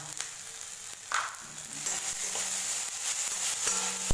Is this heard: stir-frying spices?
yes